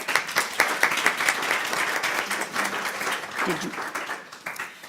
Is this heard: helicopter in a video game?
no